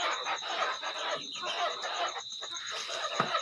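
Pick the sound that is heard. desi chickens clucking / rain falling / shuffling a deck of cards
desi chickens clucking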